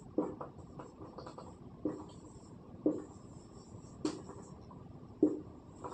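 Pen or chalk writing out a polynomials problem during a class 10 maths lesson, heard as soft scratchy strokes with sharper taps at roughly one-second intervals, close and quiet, with no talking.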